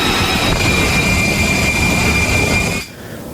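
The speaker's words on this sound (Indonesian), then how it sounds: "sebuah pesawat bergerak ke posisi dek penerbangan sebelum lepas landas" Military jet taxiing across the flight deck of USS Boxer before launch, a loud steady engine roar with a sustained high whine, continuous and near, dropping off abruptly at the end.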